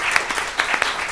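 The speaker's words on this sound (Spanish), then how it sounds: "Un aplauso para Paz Belén." Audience applause in a live talk setting, a steady wash of clapping hands with a few sharper claps standing out, fairly close and continuous over about a second.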